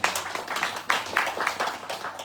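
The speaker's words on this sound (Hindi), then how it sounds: "तो हम जोरदार तालियों से उनको फिर से धन्यवाद दें" Audience clapping at a Maha Shivratri temple event at a Sri Shani Sankat Mochan Mandir, a light, scattered patter of hands that keeps going for a couple of seconds at moderate loudness.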